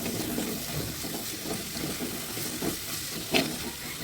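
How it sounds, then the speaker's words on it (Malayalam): Onions sautéing with salt in a pan, a low steady sizzle with soft stirring scrapes and a brief knock near the end. "സവാള അത്യാവശ്യം നല്ലവണ്ണം സോഫ്റ്റായി വരുന്നത് വരെ ഇതിങ്ങനെ വഴറ്റിയെടുക്കണം."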